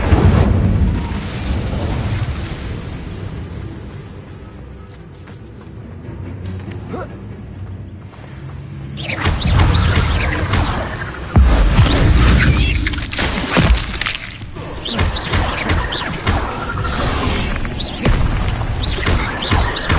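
Incendio fire spell blasts from the video game Hogwarts Legacy: loud, rumbling booms and crackling bursts in quick succession, with a softer lull before a heavy run of impacts.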